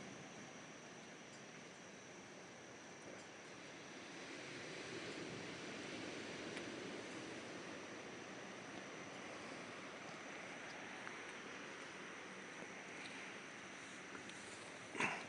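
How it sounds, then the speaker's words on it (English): Ocean waves crash on the shore in Maui, heard from a distance as a faint, steady surf roar that swells gently, with a little wind and no voices. "You can see the waves crashing on the shore"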